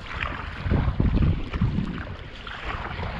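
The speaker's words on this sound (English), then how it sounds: "Looks like he's getting the hang of paddling," Kayak paddling off Virginia Key: rhythmic paddle strokes splashing close by in a cluster of soft surges, over a steady background of wind and moving water.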